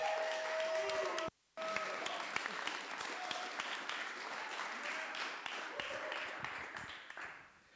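An audience at a data science demo day breaks into sustained applause, a dense steady patter of many hands clapping that fills the room for several seconds after a brief pause, with some talk faintly underneath.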